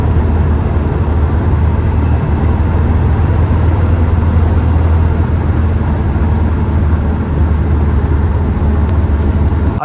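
A Land Rover Defender on the move, its engine making a steady low drone and road rumble at an even, fairly loud level from start to finish, with no talking.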